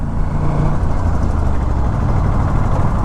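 A motorcycle fitted with a GPR titanium full-system exhaust on a city ride, giving a dense, continuous low engine drone with a throbbing exhaust note, steady and close throughout.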